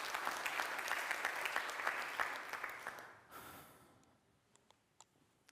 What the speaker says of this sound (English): Let's give Frank a round of applause as our final speaker of the panel.